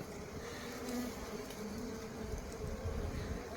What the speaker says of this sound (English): You see, the old wasps are still there.